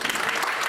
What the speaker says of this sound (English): carry on giving a big round of applause, please, for the panel